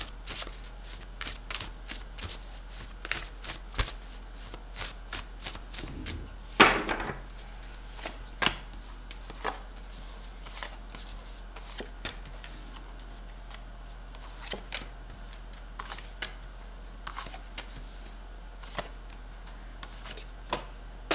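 Tarot cards being shuffled and handled close up, a series of crisp riffles and flicks in an irregular rhythm with one louder, longer riffle in the middle, mostly quiet between bursts and with no talking.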